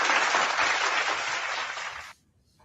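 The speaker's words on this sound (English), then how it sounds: "Round of applause." Steady applause on a sports talk show, dense and fairly close, holding evenly for about two seconds before cutting off abruptly into near silence.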